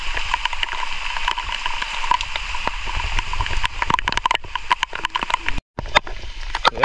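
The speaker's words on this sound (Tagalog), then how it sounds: "Sobrang lakas na ng ulan dito mga kanter." Heavy rain pours outdoors at a crab-trapping spot, a dense continuous hiss with scattered sharp drops and knocks, loud and close throughout.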